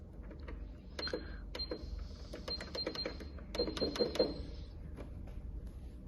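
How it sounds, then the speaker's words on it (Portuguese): A sewing machine topstitches along the seam where the main fabric meets the lining of a wine bottle holder. It starts and stops in short mechanical bursts of clicking and whirring, close by and fairly quiet, with no talking over it. "vamos jogar um pouquinho a agulha pro lado esquerdo, pra gente fazer esse pesponto bem no encontro entre o tecido principal e o forro"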